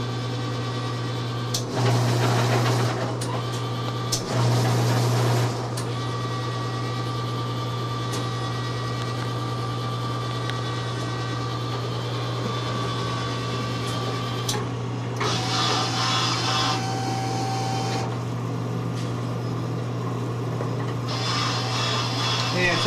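Elevator mechanism inside a pizza vending machine travelling down and over, a steady motor hum with ratcheting, clicking and whirring bursts as it moves and resets, running for a long stretch.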